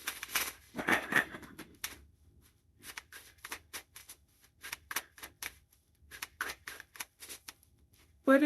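Oracle cards being lightly shuffled by hand, a run of soft, quick papery riffles and taps in short bursts with brief pauses, fairly close and alone without talk.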